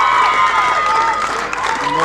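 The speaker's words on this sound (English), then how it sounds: "everybody will stand in applause of what has been a magnificent 100 from Chetna Padiala." Stadium crowd applauding a cricket century in a women's one-day international between Zimbabwe and USA, a steady continuous wash of clapping and cheering that holds at full level throughout, with a commentator talking over it.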